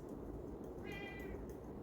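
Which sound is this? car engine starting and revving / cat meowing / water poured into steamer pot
cat meowing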